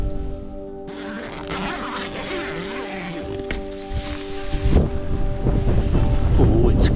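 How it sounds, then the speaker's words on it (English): Strong, gusty mountain wind on Pen y Fan roars and buffets against a tent, building suddenly from calm to loud, rushing blasts that thump the microphone. "then suddenly big whooshy wind"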